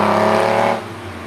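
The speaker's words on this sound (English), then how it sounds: "We're driving a Countach." A Lamborghini Countach engine heard from inside while driving, a loud steady mechanical drone with harmonic hum that eases off toward the end of the brief moment.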